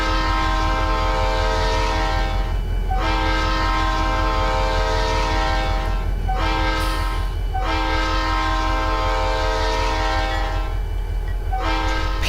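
A Conrail SD40-2 locomotive, number 6388, sounds its multi-chime horn in the Trainz railway game, blowing four long loud blasts with short gaps over a low rumble of the engine running.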